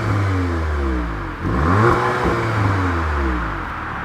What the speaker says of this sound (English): I will pop in a clip of the engine starting up and a few revs.